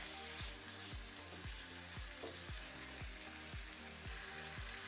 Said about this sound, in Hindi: छः 7 मिनट तक इसको हम भूनेंगे।